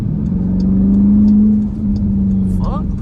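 A Dodge Durango SRT engine revs up and holds a loud, close, rising tone from inside the cabin, then eases off, with people talking over it.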